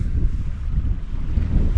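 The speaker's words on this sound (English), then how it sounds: "that southwesterly wind has picked up" Southwesterly wind gusting across a sea fishing spot on the Bristol Channel at Redwick near high water, a loud, steady low rumble of buffeting against the microphone with no voices.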